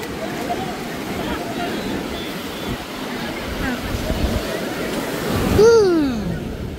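Ocean waves wash in at Calangute beach in Goa, a steady broad rush of surf that swells toward the end, with people talking nearby.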